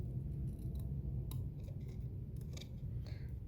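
Scissors snipping paper off a wrapped present at a stamping craft table, several quick crisp cuts close by over a steady low background hum.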